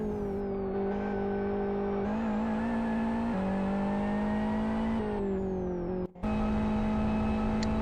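A GT race car in the Buggyra Zero Mileage GT Cup at Rockingham drones through a flying lap, its engine note loud and close, climbing and easing through the gears with a short dip as it lifts off mid-run.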